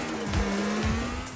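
A car drives in the video game Grand Theft Auto IV, its engine droning steadily close by with brief tire squeals and shifts in pitch, and no talking.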